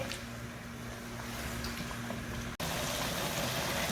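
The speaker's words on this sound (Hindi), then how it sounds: "हम अब हाई फ्लेम पे चिकन की भुनाई कर लेंगे 10 मिनट के लिए" Marinated chicken frying in hot oil over high flame for a biryani, a steady close sizzle and bubbling hiss with a brief dropout near the end, no talk.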